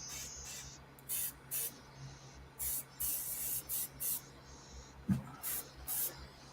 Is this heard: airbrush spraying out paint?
yes